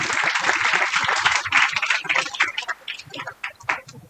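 Audience at an international academic conference applauds to welcome the session chairs, a dense, steady round of clapping that fills the hall and tapers toward the end.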